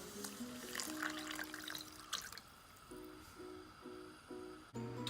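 A cup of water pours into a cooking pot of mustard seeds for a pickled beet brine, a steady liquid trickle with drips, moderately faint beneath a background of sustained tones.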